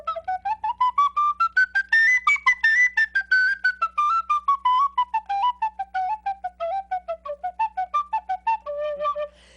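A penny whistle plays a quick run of many short, detached notes, climbing to shrill high notes, dropping back, then rising again; clear, close and solo, with no talking.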